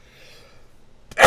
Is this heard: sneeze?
yes